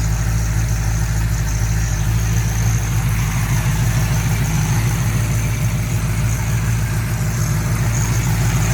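A 1970 Challenger convertible's engine idles loud and close, a steady low rumble with a smooth, even beat that holds throughout.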